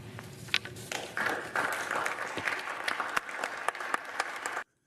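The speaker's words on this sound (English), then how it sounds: "There are some applause." Applause from an audience at a political speech, a dense patter of many hands clapping with a few sharper claps standing out, fairly distant and moderate in level before stopping abruptly.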